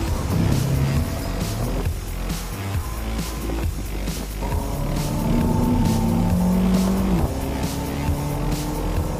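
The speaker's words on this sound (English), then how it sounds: "There's a nice little crackle and a burp from the exhaust every time you change up." A Mercedes CLA 45 AMG accelerates hard, its engine note climbing through the gears with brief drops at each upshift, heard up close and steady over several seconds.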